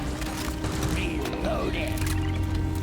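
Mechanical clicks and ratcheting of a weapon being reloaded in Deep Rock Galactic, a few quick metallic clacks over steady game background noise.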